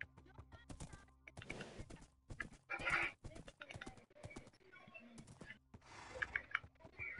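Horse hooves clop in a video game, quick irregular taps and thuds in short bursts, fairly faint, with a few brief noisy swishes in between.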